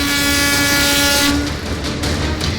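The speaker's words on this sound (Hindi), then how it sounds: "ठीक उसी जगह से मरम्मत की गई पटरियों पर ट्रेन दौड़ाई गई" A train runs over newly repaired railway tracks at the scene of the Odisha rail accident, giving a loud, steady rumble with a sustained horn-like tone. The tone drops away partway through while the rolling noise carries on.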